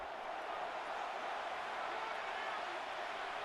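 Stadium crowd roar in the Madden NFL 26 football video game: a dense, steady wash of cheering voices, sustained and even throughout, with no clear individual words.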